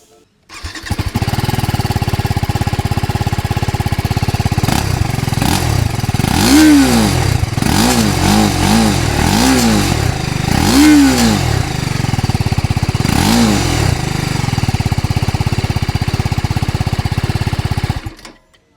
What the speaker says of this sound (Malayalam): നമുക്ക് എന്തായാലും നമ്മുടെ R T R three start ചെയ്ത് നോക്കാം